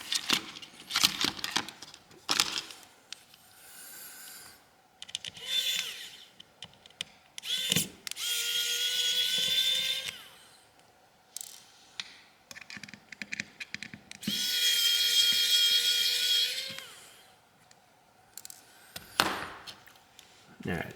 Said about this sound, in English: I'll take these screws out real quick.